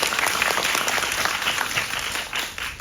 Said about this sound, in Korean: 일단 박수 먼저 한 다음에 큰 박수 부탁드리고요.